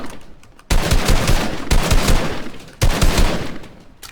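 SMG bursts in Fortnite Battle Royale: three loud, sharp bursts of rapid automatic gunfire, each lasting about a second, separated by brief pauses.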